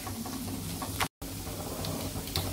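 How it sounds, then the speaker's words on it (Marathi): Masala frying in hot oil in a pan, a steady close sizzle and hiss with faint stirring scrapes and a very brief dropout, no talking. "आपण हा तेलामध्ये चांगला फ्राय करून घ्यायचा"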